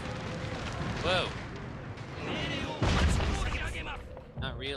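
Cannon artillery booms in a Total War battle with several heavy, rumbling blasts and crackling impacts spread unevenly across the clip, mixed with in-game voices and shouts.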